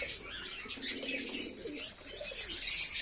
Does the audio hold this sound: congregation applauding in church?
no